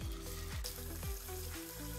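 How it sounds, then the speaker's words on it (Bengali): Bata fish sizzles in hot oil in a pan, a soft, even frying hiss with a few faint knocks. No voices are heard. "মাছটা দিয়ে দেবো এবার ভাজার জন্য।"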